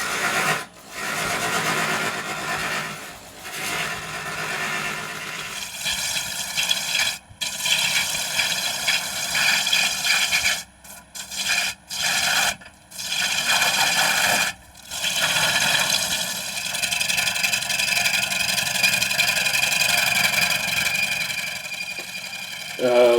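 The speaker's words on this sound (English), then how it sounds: "The big spindle gouge comes in for some good use on the big work" A wood lathe spins a tall yew blank for a hollow form while a big spindle gouge cuts into it, producing a continuous loud scraping, hissing cut broken by brief pauses where the tool lifts off.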